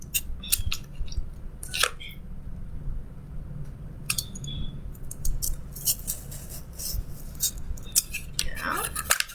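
Scissors snip through paper while cutting out a triangle stencil, a string of short crisp cuts spread across the span, fairly close, with faint rustling and a murmur of voice in the background.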